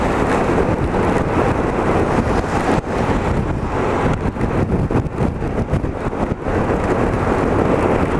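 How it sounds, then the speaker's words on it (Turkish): Strong headwind buffeting a motorcycle rider on a night ride through a storm, a loud continuous roar of wind noise across the microphone with gusty fluctuations. "Tam karşımdan geliyor rüzgar."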